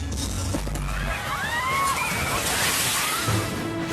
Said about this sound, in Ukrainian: Просто під час концерту гігантська хвиля знесла сцену і глядацький зал.